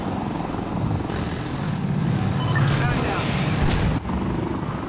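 A helicopter in the Insurgency video game gives a loud, steady rotor and engine roar throughout, mixed with other game noise and people talking over it.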